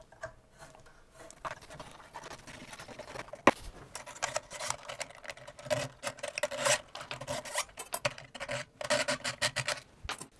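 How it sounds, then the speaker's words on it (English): Strings being taken off an electric guitar, close up, with scraping and rubbing, metallic clicks and light ticks, and one sharp snap near the start, then busier handling noises. "let's remove the strings"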